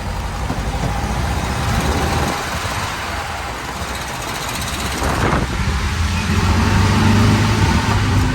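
A 1943 Volkswagen Kubelwagen Type 82 WWII German military car is driven over grass and small hilly bumps. Its engine drones up close, steady at first, then swells louder and throatier toward the end.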